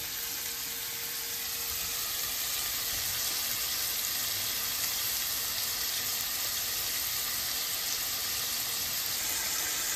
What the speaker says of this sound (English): 2 to 3 minutes on each side, or as brown or as done as you want.